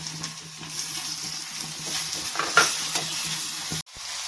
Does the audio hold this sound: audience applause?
no